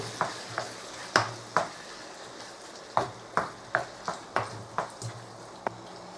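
Spoon stirring a thick chicken and mushroom sauce after just under a teaspoon of MSG goes in, giving about a dozen sharp, separate scrapes and taps against the pan at an uneven rhythm, close and fairly quiet, with no talk.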